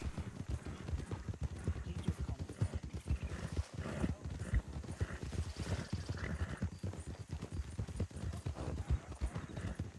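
Horse hooves clip-clop steadily in a video game, with two riders on one horse, a fast continuous rhythm of hoof strikes close up, with faint whinnying and the clatter of movement throughout.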